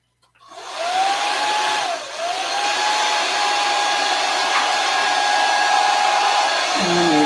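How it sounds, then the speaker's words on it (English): A hair dryer starts up close and blows with a steady, loud whirring roar, dipping briefly in pitch before settling into a constant hum for several seconds. "What I'm going to do now is I'm going to take a hair dryer."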